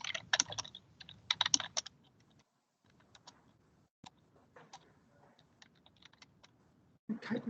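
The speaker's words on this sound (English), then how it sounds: "Typing something." Typing on a computer keyboard during an electoral board meeting, bursts of quick close clicks separated by short pauses, fairly quiet, with no voices over them.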